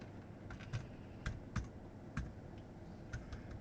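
Typing on a computer keyboard, a scatter of quiet, close key clicks in uneven bursts over a low room hum, with no talk.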